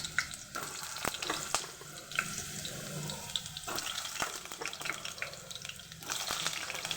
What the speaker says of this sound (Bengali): তেলটা গরম হয়ে গেছে এর মধ্যে আমি আলুগুলো দিয়ে দেবো